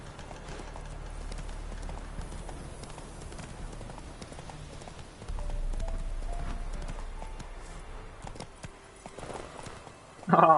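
Hooves of the horse Roach clip-clop in The Witcher 3 video game, a steady rhythmic trot of moderate loudness with a brief pause midway, ending in a louder burst of game sound.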